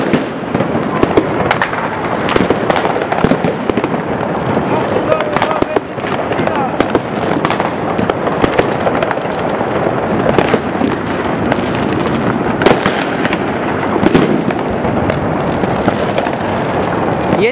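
New Year fireworks over Žilina, Slovakia, a dense, continuous barrage of loud crackling bursts and sharp bangs with no pauses, while people talk and exclaim underneath.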